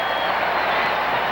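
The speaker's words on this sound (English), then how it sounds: "They're still applauding themselves." Baseball crowd at a Toronto Blue Jays at New York Mets game applauding, a steady broadband wash of clapping and murmur from a large stadium audience, fairly loud and continuous throughout.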